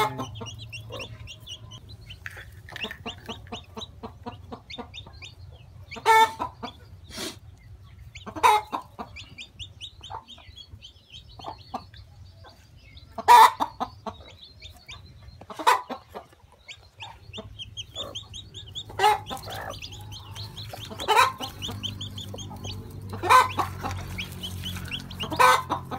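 A hen clucking softly and repeatedly while sitting on hatching eggs, with occasional louder sharp clucks standing out from the steady murmur, close by.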